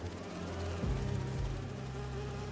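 Holographic bee wolves buzz in Marvel's Spider-Man 2, a continuous droning insect-like hum with a faint background tone and a couple of low swooping passes, fairly quiet and steady throughout.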